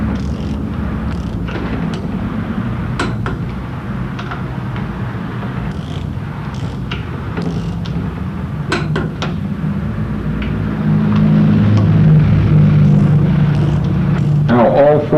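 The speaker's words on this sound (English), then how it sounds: "we go around and we torque down each particular rod" Sharp metallic clicks from a torque wrench tightening the connecting rods of a VW engine rebuild, set to 23 foot-pounds, land at irregular intervals over a steady background hum.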